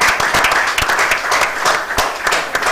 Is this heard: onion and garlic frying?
no